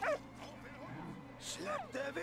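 A dog in the World War I video game Valiant Hearts gives short yipping barks and whimpers, faint and mixed under steady background sound and someone talking.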